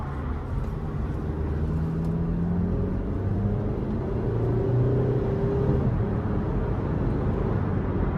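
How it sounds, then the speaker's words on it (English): A 2012 Hyundai Sonata Limited with a 2-liter four-cylinder engine drives along the road. Heard from inside the cabin, the engine hum and road rumble stay low and steady, with a slight rise in engine pitch partway through. "the car drives really nice"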